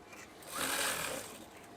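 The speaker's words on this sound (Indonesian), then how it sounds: "Secara perlahan, jahit saja." A sewing machine stitches a rope for curtains in one short, close whirring burst that swells and fades, with no talking.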